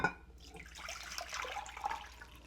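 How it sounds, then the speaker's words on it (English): Water from a bowl of soaked sprouting beans is poured out through a strainer, a faint trickling splash that starts with a clink and runs softly for a couple of seconds. "And I'm going to empty the water now."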